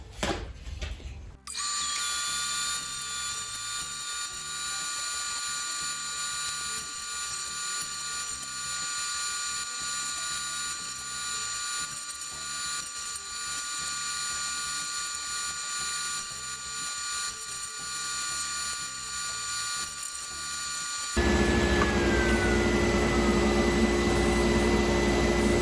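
Steady whine of a dado cutter on a table saw running wood panels along all four edges for a craftsman blanket chest, a loud continuous machine drone with no talk, shifting to a harsher tone near the end.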